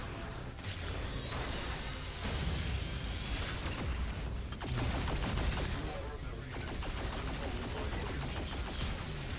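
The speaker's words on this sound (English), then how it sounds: "Explosions." Explosions in a video game burst out as dense, rapid crackling blasts that run almost continuously, with heavier surges near the start and midway and no talk over them.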